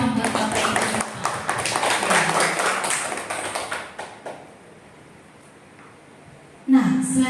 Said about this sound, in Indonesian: Tepuk tangan dulu dong buat Bapak Ibu.